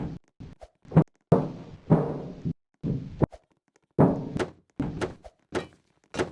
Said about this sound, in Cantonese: 用我哋嘅鐵拳咁樣打爛嗰個通風管嗰個鐵門